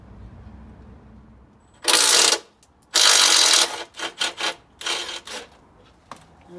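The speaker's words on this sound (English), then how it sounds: "get the driver onto this bolt down there" A powered driver working a bolt on the steering rack of a Ford Focus ST170, heard as two loud, sustained whirring bursts followed by several shorter ratcheting spurts and one final brief blip, close by with no talk.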